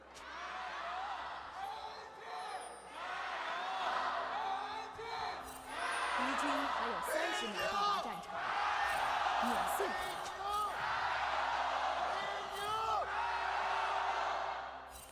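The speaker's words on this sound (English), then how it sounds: "Crowd feels electric in Xi'an" Large arena crowd at an LPL League of Legends playoff match in Xi'an roars and cheers continuously, with surges of whoops and shouts rising and falling over a steady, dense wash of voices.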